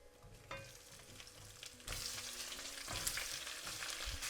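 Onions fry with cinnamon, cloves and cumin seeds in a pan, starting as a quiet crackle and jumping to a louder, fuller sizzle partway through, with occasional spoon taps and scrapes and no talk.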